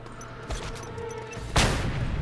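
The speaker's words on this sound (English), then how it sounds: "Okay, grenade time." A grenade explosion in the Just Cause 2 video game: a sharp, loud burst partway through with a broad crackling roar that lingers afterward, following a smaller thump and low in-game background rumble.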